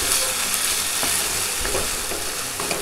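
Grated ginger with a little cardamom being stirred in a pan over lowered heat, with a dense, continuous loud sizzle and faint scraping strokes throughout, close up.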